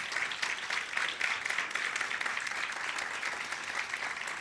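Congregation at an evening church service applauding for Jesus Christ, a dense, steady wash of many hands clapping from a large room, unbroken and fairly distant.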